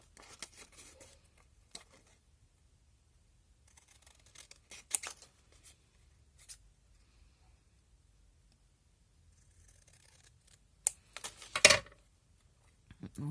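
Scissors snip through paper while cutting out a triangle for a homemade Christmas chocolate box, with sparse quiet cuts early and a louder burst of rapid snips near the end in a quiet room.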